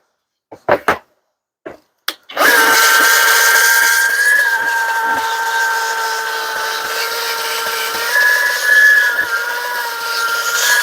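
A Kobalt belt sander runs steadily at its lowest speed, a loud continuous whine with a sustained pitched hum, preceded by a few sharp knocks before it starts.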